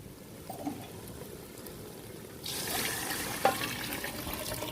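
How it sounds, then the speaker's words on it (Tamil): Water runs and splashes steadily into a pot for chicken biryani, a continuous rushing pour that grows louder partway through, with a small clink near the end. "இப்போ தண்ணி நான் சேர்த்துக்கிறேன்"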